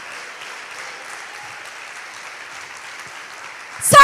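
A church audience applauds in steady, sustained clapping throughout, with a sharp, louder burst of sound at the very end.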